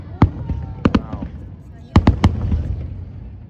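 Fireworks bursting in the sky at Yaizu, Japan: a few sharp distant booms, first singly and then in a quick cluster of three, with the rumble of a crowd between them and people talking.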